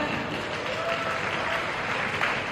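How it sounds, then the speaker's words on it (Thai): Guests at the Synergy Night event for the Thai film Tee Yod 3 applaud continuously to welcome the cast, a dense, steady crowd clapping with no clear voices. "เราขอเสียงปรบมือต้อนรับทุกท่านด้วยนะฮะ"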